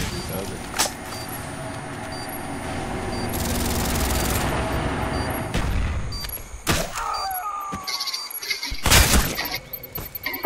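Gunfire and impacts from a Call of Duty Black Ops bomb-defusal round, with a steady stretch of fire followed by sharp, loud bursts and clattering hits toward the end.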